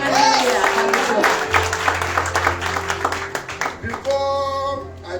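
Congregation clapping at a praise and worship tabernacle service, a burst of applause under a preacher's voice that thins out toward the end as he carries on talking.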